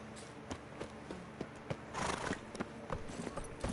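Horse hooves clip-clopping at a walk in The Witcher 3: Wild Hunt, a steady run of distinct hoof strikes, moderately close and fairly quiet over soft background ambience, with no talking.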